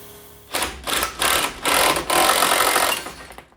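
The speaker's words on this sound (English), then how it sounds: "So now we got to press out this bottom ball joint down." A press forces the lower ball joint out of a 1979 Pontiac Trans Am spindle, making a loud, harsh, buzzing mechanical noise in four or five closely spaced bursts, then a longer sustained run that cuts off abruptly.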